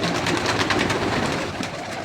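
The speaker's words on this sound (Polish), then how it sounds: "gołąbki z czołowej hodowli" Several homing pigeons coo softly and continuously over a busy, noisy background.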